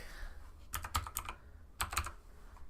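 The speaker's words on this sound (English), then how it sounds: "You guys tell I got a new keyboard, it's super loud." Keys clack on a new, loud computer keyboard in two quick bursts of typing, sharp and close, separated by a short pause, over faint background hiss with no talking.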